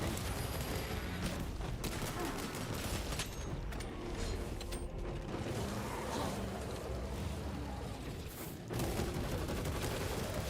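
Enemy gunfire rattles on without a break in Warhammer 40k: Space Marine 2, loud continuous shooting layered with mechanical clatter and battle noise through the whole stretch, with short pauses between bursts.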